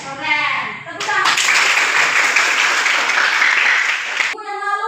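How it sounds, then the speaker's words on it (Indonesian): A class of vocational high school students bursts into loud, dense hand clapping that starts abruptly, holds steady for about three seconds, then cuts off, with a teacher's voice heard before and after. "Tepuk tangan."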